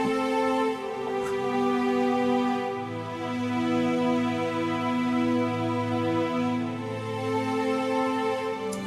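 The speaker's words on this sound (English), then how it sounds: "I can never really resist putting some strings on, so we got a bit of that, and there's a little pad as well in there." Ambient strings and a soft synth pad swell together in sustained, layered chords, holding a warm, steady wash with slow shifts in harmony and no talking.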